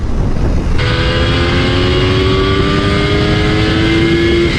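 A Kawasaki 750 H2 triple motorcycle engine kicks in loudly after a brief rumble and holds a high, rising revving whine with throttle, steady and close, with no talking.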